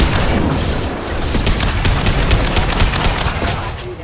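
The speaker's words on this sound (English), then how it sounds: "He's gunning down his own crew to keep control?" Sustained gunfire in the Mass Effect video game rattles loudly and densely, with rapid overlapping shots and booming impacts that fill the whole stretch without a pause.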